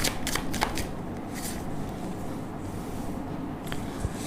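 Tarot cards are shuffled close up in a steady run of soft riffling and flicking, with a few sharper card snaps, continuous for several seconds with no talk.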